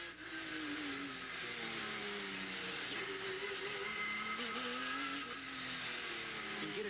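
A 1990 SCCA Trans-Am race car heard from inside the cockpit on a straightaway at Des Moines, Iowa, its engine a loud, sustained roar with steady pitch swells as it holds speed.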